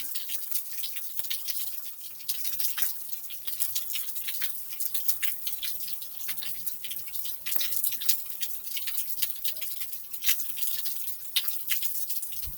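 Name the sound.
heavy rain pouring outside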